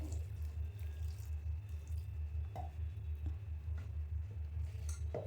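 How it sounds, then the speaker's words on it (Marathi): Water pours steadily into a metal pressure cooker over taro-leaf vegetables, with a low hum underneath and a few light clinks and splashes along the way. "भाजी पाण्यामध्ये बुडेल इतकं पाणी टाकायचं याच्यामध्ये"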